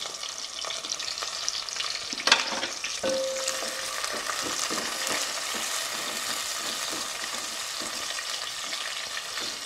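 Green chillies fry in a pan with a steady, close sizzle and crackle, stirred with scraping clinks from a utensil.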